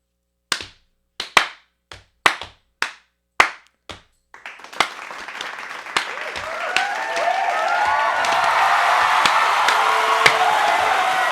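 Several sharp hand claps, spaced about half a second apart and loud and close, then the clink of beer bottles and rising murmur of a room full of people.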